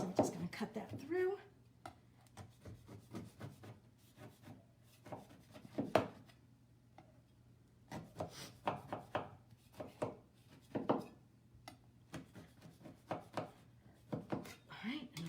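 A knife cuts through a tray of baklava in a home kitchen, making soft crisp crunches and scraping strokes in irregular bursts, with someone talking over the cutting.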